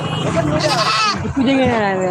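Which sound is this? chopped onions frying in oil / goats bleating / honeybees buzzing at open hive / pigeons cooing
goats bleating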